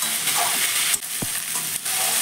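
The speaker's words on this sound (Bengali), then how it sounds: "কিন্তু নাড়াচাড়া করে পেঁয়াজটাকে ভালো করেই ভেজে নিতে হবে।" Onions frying in a pan with very little oil while being stirred: a loud, continuous close sizzle with a few brief scraping strokes of the spoon, and nobody speaking.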